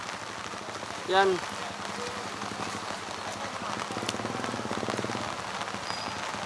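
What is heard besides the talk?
heavy rain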